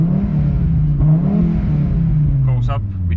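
An Audi S2 engine, launch control disabled, idles and then revs up freely in a rising, rumbling swell before settling back, heard close with a few clicks near the end.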